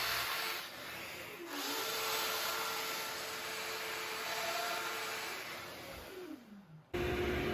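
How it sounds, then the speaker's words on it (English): A drill press spins up and bores a 1/2 inch hole in wood for a shaker peg tenon, giving a steady, loud motor whine that drops in pitch as the bit loads, then winds down near the end. "At the drill press, I'm drilling a 1/2 inch hole to accept the tenon on the shaker peg."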